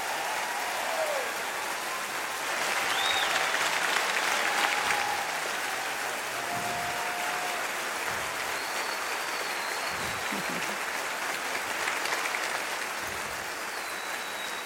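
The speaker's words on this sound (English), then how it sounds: "I think your cheering and your cheers for Michael" A church congregation applauds and cheers at a celebration for a reverend and his wife, with dense sustained clapping that swells midway and continues throughout.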